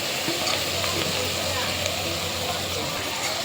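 Tomatoes sautéing over onions for cooker chicken, a constant dense sizzle and crackle from the pan, close and loud throughout, with a voice faintly present underneath.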